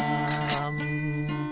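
A notification bell sound effect rings three times, bright metallic ding-like bell tones with a long sustained ring between strikes, clear and alone.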